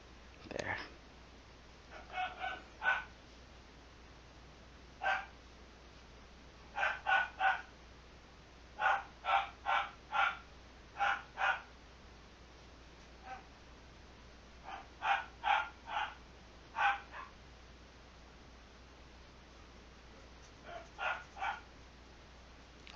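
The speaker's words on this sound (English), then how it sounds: "my dog is really noisy" A dog barks in short bursts of two to four sharp barks with pauses between them, fairly close and loud over a quiet indoor background.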